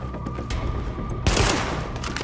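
Gunfire in Tom Clancy's The Division, a sustained fusillade of rapid shots, loud and close, with a sharp burst of heavier fire midway.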